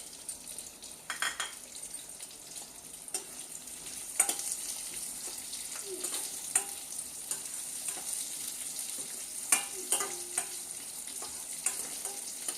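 Cumin seeds and dried red chillies fry in hot oil in a pan for a Telugu lentil and broad-bean curry, a steady soft sizzle with occasional spoon stirs and clinks against the pan, no voices.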